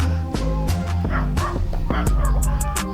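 Several dogs bark and yip loudly nearby in quick, irregular bursts, with some whimpering mixed in.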